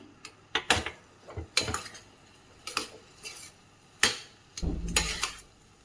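A spoon scrapes and clinks against a pan while vangi bath is mixed with tamarind juice, giving irregular metallic knocks and stirring scrapes at close range.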